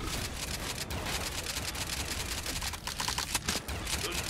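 Rapid gunfire in a Call of Duty custom zombies map, dense crackling shots running continuously and loud throughout with no pauses.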